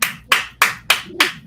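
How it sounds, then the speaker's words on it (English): Five sharp, evenly spaced hand claps, close and loud, about three per second with nothing else around them. "I'm gonna just keep clapping for these comments"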